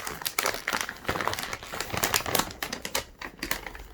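A bag of dog food, a gut health formula, is handled and opened indoors, giving dense crinkling and rustling of plastic packaging with sharp crackles, continuous and close.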